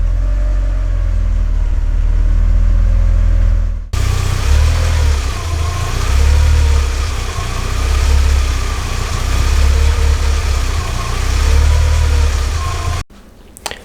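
A VW car engine idles steadily with a low rumble, its speed hunting slightly high and wavering up and down across the whole stretch, close and loud with no talking.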